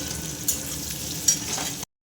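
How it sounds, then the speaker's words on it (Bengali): Boiled raw jackfruit frying in oil, a close, steady hissing sizzle with a couple of brief louder spatters, lasting under two seconds before abruptly stopping, no talking. "এঁচোড়গুলো ভালো করে ভেজে নেব।"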